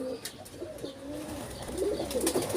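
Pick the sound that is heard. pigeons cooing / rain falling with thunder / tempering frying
pigeons cooing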